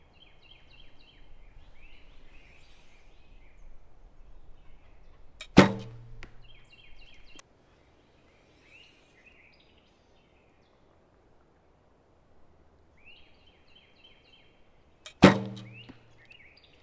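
Arrows shot from an Olympic recurve bow fitted with a barebow weight: two sharp, loud string releases about ten seconds apart. Each one ends in a brief buzzing decay, with faint outdoor birdsong in the quiet between shots.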